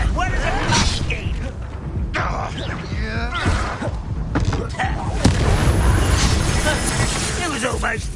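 A Confringo blasting spell explodes in Hogwarts Legacy, with heavy booming blasts and crackling impacts layered over dense game music and combat noise, with voices heard during the fight.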